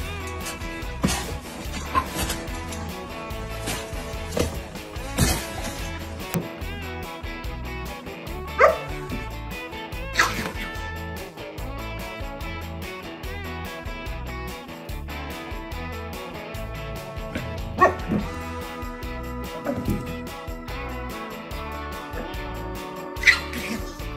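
A German Shepherd barks and yips in scattered sharp bursts, heard over continuous background music.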